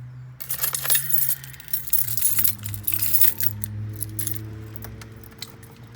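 Metal keys jangle and clink in a quick burst in the ignition of a Nissan Z31, settling as a low engine-like hum continues underneath.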